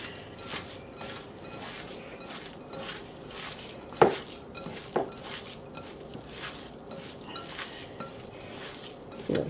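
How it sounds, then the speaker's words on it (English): Meatball mixture is worked together in a bowl with quiet, irregular squishes and soft taps, plus one sharper knock partway through. "We're going to mix it all together."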